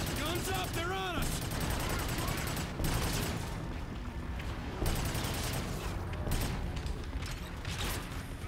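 Gunfire in the shooter video game Call of Duty: Infinite Warfare, a dense run of rapid shots and mechanical clatter throughout with brief speech at the start.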